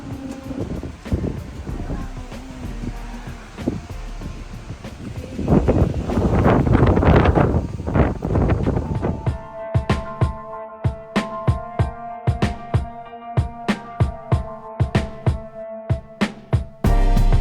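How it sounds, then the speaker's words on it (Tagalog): Strong wind roars and buffets the microphone at a campsite at night, swelling loudly midway, followed by a series of sharp rhythmic knocks and rattles. "Sobrang lakas ng hangin."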